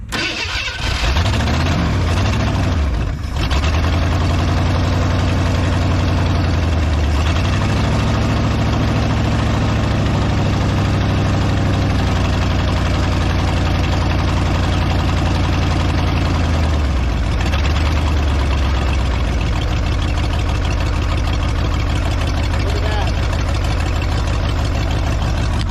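A Ford F150 truck engine that sat unused for 15 years cranks and catches, then idles loudly and roughly up close, its low rumble wavering in pitch and speed for about twenty seconds.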